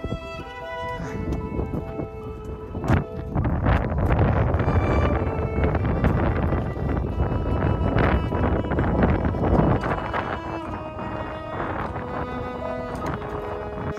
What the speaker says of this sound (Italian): Arrivati in cima, però, il vento è iniziato a battere con forza.